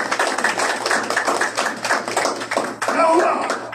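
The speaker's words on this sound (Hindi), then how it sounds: "बहुत सारी तालियां।" Applause in a church service, a dense run of many hands clapping with a few sharper taps, close and fairly loud, mixed with voices.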